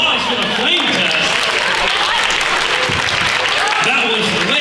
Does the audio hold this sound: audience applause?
yes